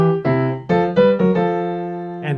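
A melody played on a keyboard with a plain piano-like tone, a short bouncy run of several clear notes over about two seconds, close and alone with no talking.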